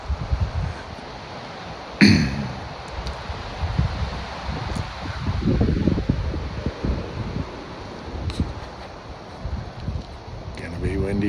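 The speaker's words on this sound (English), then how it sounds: "Wind's coming hard out of the west, northwest." Strong wind on a Montana mountainside before legal shooting light during an elk hunt, a loud, steady buffeting roar with gusts and microphone rumble, alone without talk.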